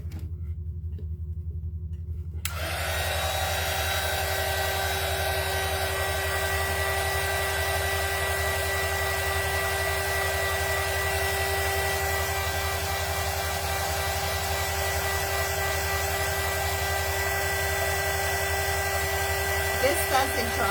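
A hair dryer blows hot air onto a lightbulb angel craft piece, switching on after a brief silence and then running as a loud, steady whirring drone with a constant whine, close to the mic.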